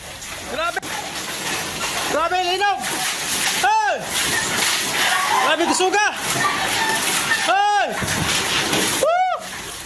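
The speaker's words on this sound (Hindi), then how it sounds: "वो छलक छलक के पूरा पानी नीचे गिर रहा है" Water surges and spills from aquarium tanks rocked by an earthquake in the Philippines, with repeated loud sloshing waves and splashes arriving every second or two over a constant hissing, washing background.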